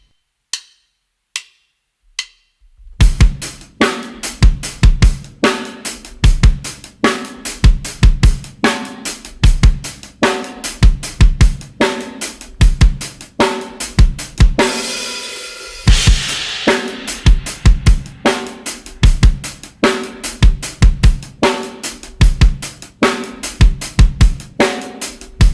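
Drum kit playing a 16th-note groove with accented 8th notes and hi-hat lifts, a dense, steady, close and loud pattern of kick, snare and hats after a few sparse opening hits, with a brief washy cymbal swell midway.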